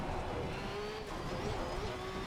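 A race car lapping the Hungaroring in a racing simulation, its engine holding a steady, slightly wavering drone heard from the cockpit, with low rumble and tyre noise underneath and no talk.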